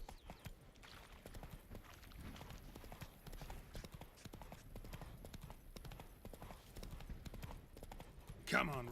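Roach, the horse in The Witcher 3, gallops in a steady, close clip-clop rhythm that runs throughout, with a sharp burst near the end and speech partly over it.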